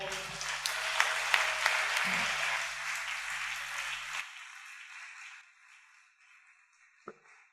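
A church congregation claps and cheers loudly in praise, with brief voices and music under it for about four seconds before the sound cuts off to near silence and one isolated knock.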